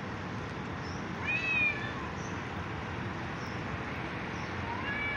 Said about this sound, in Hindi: बिल्ली फाइटिंग कर रहा है